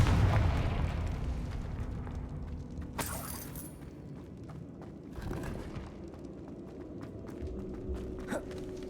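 In the Hogwarts Legacy video game, a Confringo blasting curse sets off a muffled explosion and rumble, followed by crackling debris and a few sharper bursts at moderate loudness.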